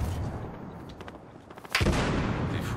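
Gunfire in Battlefield Hardline, a sniper-mode match, sounds as muffled distant rumbling shots, followed by one sudden loud blast that leaves a sustained roar.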